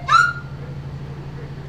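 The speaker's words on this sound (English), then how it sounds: "one is a full-scale penny whistle" A single short penny whistle note, bright and slightly rising, rings out at the start, then fades into a low steady hum.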